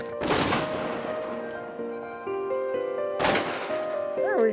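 Two loud, sharp shotgun blasts during a waterfowl hunt in Saskatchewan, one near the start and another about three seconds later, with a duck call warbling at the end and people talking between the shots.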